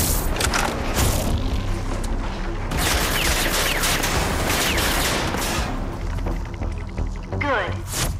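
Simulated enemy gunfire in the Rage 2 shooter on PS5, dense and loud with overlapping rapid shots and heavy booms running continuously, with a few louder bursts along the way.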